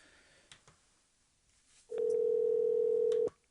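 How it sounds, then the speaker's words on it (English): A telephone tone, heard while a radio show dials a caller, sounds as one loud steady beep lasting over a second, preceded by a few faint clicks over low background hiss. "Caller 903, I'm calling you right now."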